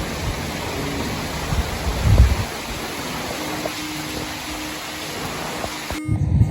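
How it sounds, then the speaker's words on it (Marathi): Strong wind and rain on a foggy mountain top produce a constant broadband roar, with gusty buffeting bursts hitting the microphone up close and loud, and no speech. "इथे वरती आल्यानंतर तुम्हाला आवाज सुद्धा येत नसेल कारण का खूप अशा जोरामध्ये इथे हवा वाहते"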